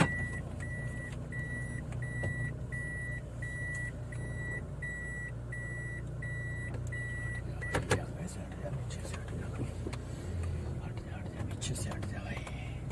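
In Lahore, a car's engine hums steadily at close range as it is started and pulled out, with a run of short electronic beeps early on and a louder bump near the middle. Faint voices murmur in the background.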